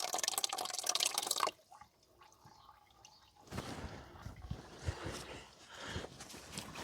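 Water splashes and drips out of an old tractor engine, a steady spatter at first, then quieter drops, then a renewed irregular splashing stream, heard close up.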